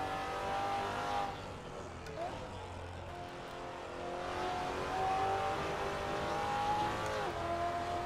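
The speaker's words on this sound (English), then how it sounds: "I always enjoy the sound of European V8s." A Maserati Quattroporte with a European V8, driven in Assetto Corsa, hums steadily with shifting engine tones and revs throughout, carrying a faint tire squeal under a continuous mid-level drone.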